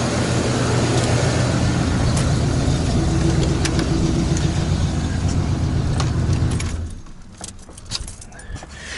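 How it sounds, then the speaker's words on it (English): An RV tow vehicle's engine idles steadily with a low rumble and a slight exhaust leak on the passenger side, then is switched off, leaving faint clicks and rustles. "I do have an exhaust leak starting up though on this side."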